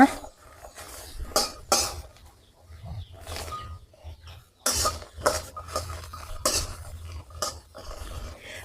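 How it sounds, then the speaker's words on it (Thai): Peeled shallots and garlic dry-roasted in a pan, with intermittent scraping and clinking strokes of a utensil against the pan in irregular bursts separated by quiet gaps, close and moderately loud. "หัวหอมกับกระเทียมค่ะที่เราแกะเปลือกเสร็จเรียบร้อยแล้ว นำมาคั่วพร้อมกันเลยนะคะ"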